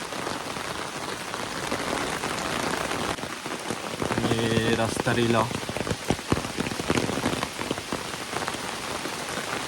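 Steady monsoon rain pours down across rural forest land, a dense continuous hiss of drops on surfaces, with a short stretch of talk partway through.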